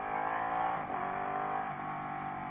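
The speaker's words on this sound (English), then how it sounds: "You can hear the engine braking, because this engine is really loud." A 2014 Ducati 899 Panigale L-twin engine braking, a loud, close, rumbling drone with steady harmonic tone that dips and shifts as revs fall, no talking.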